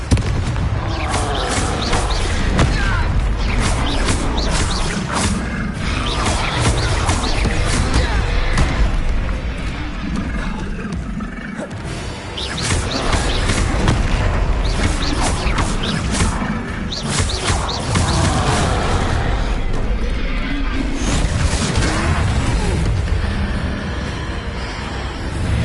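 Confringo spell explosions in the Hogwarts Legacy video game during a troll fight: a continuous, loud barrage of booms and crashes packed densely together, with one brief lull partway through.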